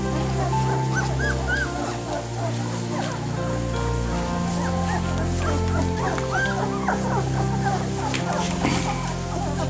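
Sixteen-day-old Bernese Mountain Dog puppies whimper and yip in repeated short, high cries throughout, close by, with a steady background hum and some faint talk.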